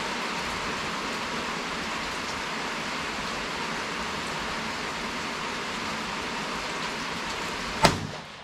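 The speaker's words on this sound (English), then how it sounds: "Wouldn't you know it started raining like crazy." Heavy rain pours down in a steady, dense hiss throughout, with a single sharp knock or crack near the end standing out against it.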